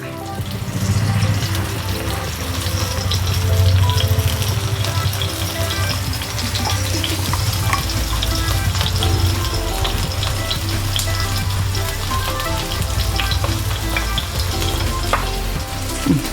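Fish wrapped in leaf frying in coconut oil for Kerala-style pollichathu, a steady close sizzle and crackle that runs the whole time with no voices.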